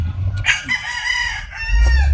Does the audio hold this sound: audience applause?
no